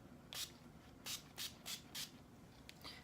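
NYX dewy finish setting spray is misted onto a face in a quick run of short, crisp hissing spritzes, then a pause and a couple more, close and clear with no talking.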